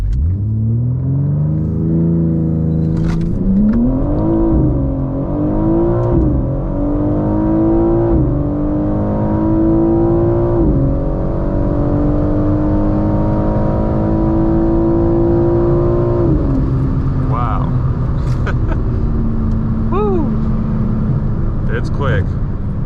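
A 2024 BMW M4 Competition xDrive launches hard and accelerates from inside the cabin, its engine climbing through stepped gear changes with a deep, loud rumble, then settling; a voice talks briefly over it.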